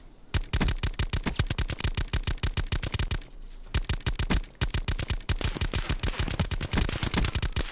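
Rapid automatic gunfire from an accurate rifle in the Black Ops Blackout battle royale video game, a dense run of loud, close shots in quick bursts with a brief pause partway through.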